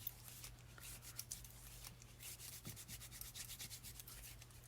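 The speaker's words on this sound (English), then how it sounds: "I'm going to just rub a little bit of lotion here." Soft close rubbing of lotion between hands at a crafting table, a steady low swishing friction with brief louder strokes, quiet and continuous with no talking.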